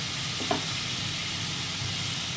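Spice paste for a thin fish curry with nigella seeds and green chillies frying in a pan, a steady, even hiss with one faint tap near the start and no voices.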